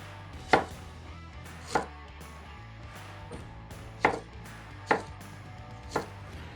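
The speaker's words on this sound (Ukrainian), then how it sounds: "Цибулю. Але порізати її так ось пір'ям." A knife slices an onion into thin feather-like strips on a cutting board, giving six distinct, spaced-out thuds over a low steady hum, close and clear with no talking.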